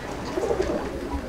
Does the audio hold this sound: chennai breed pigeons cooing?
yes